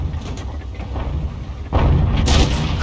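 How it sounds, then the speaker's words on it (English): A tank's 100mm main gun in a KV-85 World of Tanks match fires at a Panzer IV, a single heavy boom at mid-clip over steady low battle rumble, followed by a brighter rushing burst. "And another shot into the Panzer IV, but it was a low roll this time."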